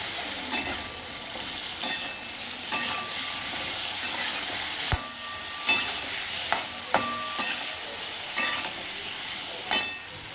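Potatoes frying in a pan with salt and turmeric, a constant close sizzle broken by sharp regular scrapes and taps of a spatula stirring, with no voices.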